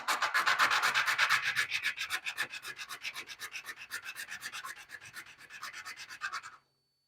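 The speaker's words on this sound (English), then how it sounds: "It doesn't take a whole lot of sanding to get it down." Quick, rhythmic back-and-forth strokes of sandpaper on a metal pin rasp close by, dozens of scratchy passes that fade slightly before stopping abruptly.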